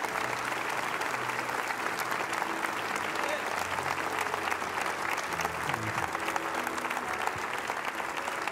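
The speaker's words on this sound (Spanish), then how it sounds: "Ese aplauso es para felicitarlo," A congregation at a Christian church service applauds in a full, continuous wave of clapping, with voices and a low musical backdrop mixed in beneath it.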